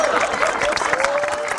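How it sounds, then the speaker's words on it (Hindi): A studio audience claps for Sher Khan on a Punjabi variety show. The applause is brief and moderately loud, with a tone sounding faintly through it. "शेर खान इधर के लिए तालियां भाई"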